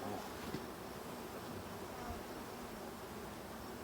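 A honey bee swarm being caught drones in a faint, steady, even buzz that holds without a break, with no talk over it.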